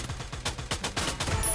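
Rapid bursts of gunfire in the Free Fire mobile battle royale game, a steady run of loud, close shots in quick succession that continues without a break.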